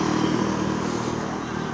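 A motorcycle engine droning past on a Jerusalem street amid steady traffic noise, a fairly loud continuous hum without speech.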